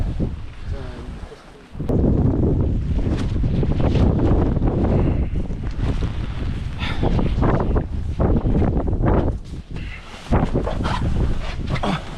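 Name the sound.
strong wind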